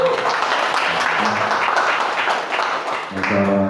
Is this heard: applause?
yes